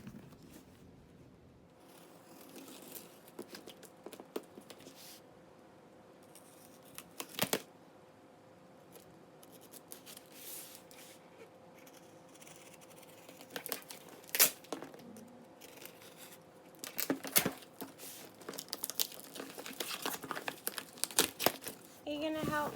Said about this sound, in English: I'm going to use my handy dandy X-Acto knife and try to get in this box without harming the bag